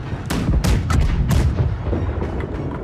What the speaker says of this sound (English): Front cannons fire.